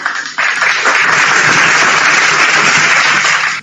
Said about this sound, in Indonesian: Tepuk tangan pula.